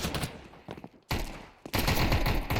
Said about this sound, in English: pistols once again being hilarious from all angles